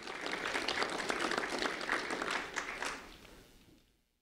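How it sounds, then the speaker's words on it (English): Audience applauding a fifth-grade student at an award ceremony, a full burst of many hands clapping that holds for a few seconds, then tapers off and falls silent. "a round of applause for Lisandro"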